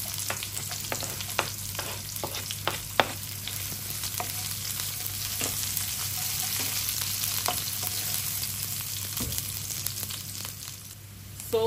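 Onion and garlic sizzle steadily in hot cooking oil, a constant close frying hiss with scattered pops and occasional stirring clicks, no voices.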